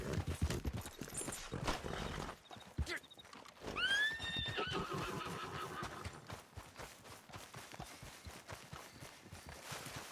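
A horse whinnies loudly amid a rapid, continuous clatter of hooves in Red Dead Redemption 2 Online, all close and busy throughout.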